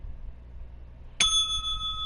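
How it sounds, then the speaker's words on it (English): A bright bell chime rings once and then holds a sustained metallic ring, alone over a low background hum. "smacking that notification bell"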